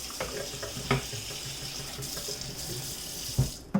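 Water runs from a sink tap into a container during home cooking prep, a continuous rushing splash with a few knocks and clunks of the vessel.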